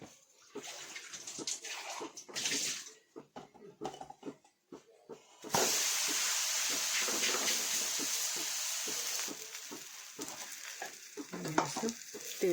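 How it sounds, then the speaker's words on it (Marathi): A fasting thalipeeth flattened dough patty goes onto a hot griddle, a steady loud sizzle rising suddenly partway through and holding, after some softer handling noises. "हे झालं आपलं थालीपीठ. आता आपण टाकणार आहोत तव्यावर"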